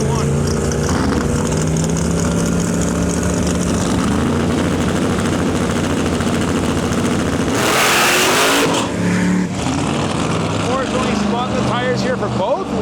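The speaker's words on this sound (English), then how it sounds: "pulling up with his nitrous box body" Nitrous-fed box body drag car at an outlaw drag racing event in Canada, its engine loud and steady throughout with a sharp, brighter burst of revving partway through, under a commentator's voice.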